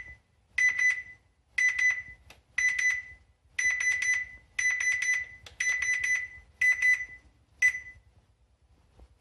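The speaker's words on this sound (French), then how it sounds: "Roulis en stéréo. 1 bip égale 10 degrés, 2 bips égale 20 degrés," Clusters of short, bright electronic beeps repeat in rhythmic groups with brief pauses between, crisp and close against a quiet background: stereo roll-attitude tones, one beep per 10 degrees of roll.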